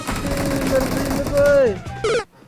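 Gunfire in PUBG Mobile on the Erangel map, a burst of rapid shots with a rising whine and a sharp cutoff near the end, heard under speech.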